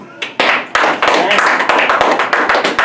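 An audience applauds a band at a music event. The clapping is close and continuous, with sharp individual claps over a steady wash of hands.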